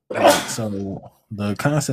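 A single sharp sneeze bursts out at the start, and a person then talks casually.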